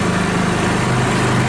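A UTV side-by-side engine runs steadily after its choke is turned off, a loud continuous mechanical drone with no breaks and no voices.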